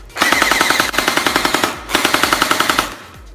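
A ZH M249 V4 toy gel blaster fires in loud, rapid full-auto bursts, a mechanical rattling clatter in three quick runs with brief gaps between them, close up and with no voices.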